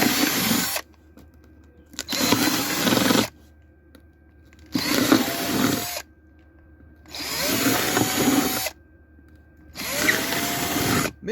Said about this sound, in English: Get yourself a drill and start making some holes.